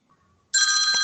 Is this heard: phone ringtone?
yes